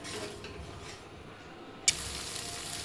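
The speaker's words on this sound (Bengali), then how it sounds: "এবার এই মশলাটা খানিকক্ষণ আবার কষাবো।" Spice masala with yogurt being stirred and sautéed in a pan over gas, giving a steady soft sizzle with scraping stirs and a brief sharp clink of a utensil near the end.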